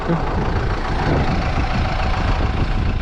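A Deutz Fahr tractor engine idling outdoors in a farm field, a steady, loud low-pitched diesel rumble with no breaks.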